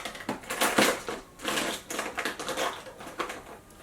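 False eyelashes being trimmed with small scissors, giving a rapid series of close, crisp snipping clicks in uneven bursts with brief pauses between.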